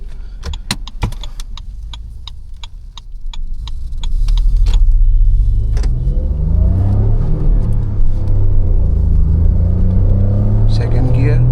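Toyota Urban Cruiser Taisor with a 1.0L turbo engine and manual gearbox pulling onto the road, its steady low engine rumble heard from inside the cabin and swelling after a few seconds, with a few light clicks early on and someone talking over it.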